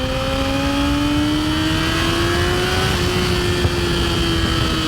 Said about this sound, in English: Getting some backfire out of the engine there, cruising along here